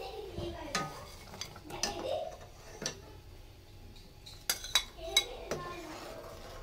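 Rice pudding (payesh) with sugar and jaggery is stirred in a pot with a spoon, giving intermittent scraping and clinking knocks against the metal over a low background hiss.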